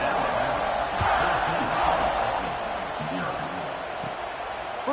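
Stadium crowd in a football video game before a kickoff, a steady broad roar of massed voices that holds at an even level throughout, with a voice talking over it.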